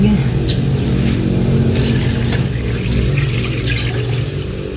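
Water pours steadily into a pot of tinola chicken soup, a continuous loud splashing gush over a low background hum.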